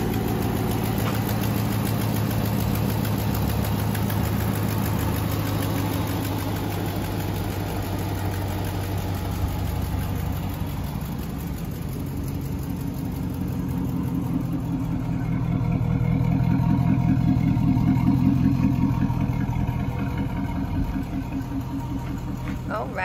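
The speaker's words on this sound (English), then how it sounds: "Just want to do a cold start for you. Starting right up." A 2007 Dodge Magnum engine cold-starts and settles into a steady idle, a continuous low rumble that stays close and fairly even throughout.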